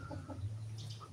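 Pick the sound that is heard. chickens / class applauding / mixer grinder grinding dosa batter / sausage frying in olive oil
chickens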